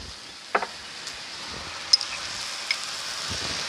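Okra stir-fried with shrimp paste sizzles steadily in a pan, with a few sharp clicks and scrapes of the spatula standing out over the constant frying hiss.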